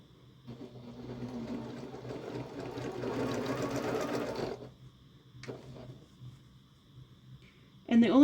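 A sewing machine stitches quilt blocks together, a steady mechanical whir that runs loud for about four seconds, then a quieter short burst follows, with a voice faintly present.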